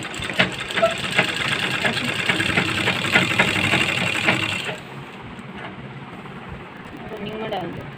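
A sewing machine stitches the round seat seam of a palazzo in a fast, rattling run of needle strokes for about five seconds, then stops, with a voice talking over and after it.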